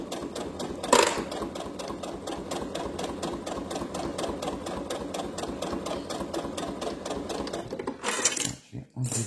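A sewing machine stitches fabric for a scrunchie in a steady, fast mechanical run lasting most of the clip, close and clear, then stops briefly before restarting near the end.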